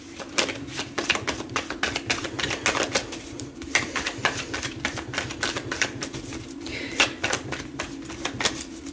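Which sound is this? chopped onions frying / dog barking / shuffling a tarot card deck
shuffling a tarot card deck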